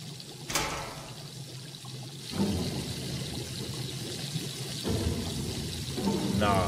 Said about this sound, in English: I hear a lot of bubbling. Is that the grease?